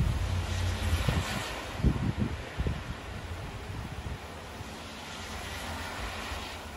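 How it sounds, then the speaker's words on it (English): Gusts of wind during a hurricane, rushing and buffeting in uneven puffs that swell loudly at first and then ease to a steadier roar, with no voices. "Getting these puffs of wind."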